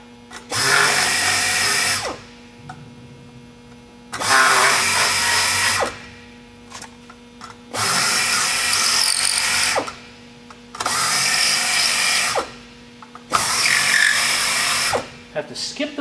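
A drill countersinks #4 holes in a sheet metal plate, running in five separate loud bursts of about two seconds each, with quiet gaps between them and a steady hum underneath.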